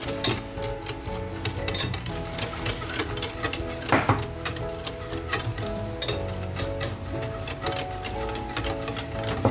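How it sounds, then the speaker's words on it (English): A whisk clatters steadily against a bowl as flour is gradually mixed into chocolate cupcake batter, a busy, close, continuous rattling scrape with no talking. "And just continue whisking and mixing until all the flour is incorporated, and we should gradually add the flour to our mixture."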